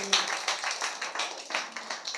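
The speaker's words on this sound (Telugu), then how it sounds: "చప్పట్లు కొట్టాల" A church congregation at a Telugu Christian sermon claps in a steady, fairly even rhythm, about ten crisp claps over two seconds. The clapping is close and moderately loud, with a faint voice at the very start.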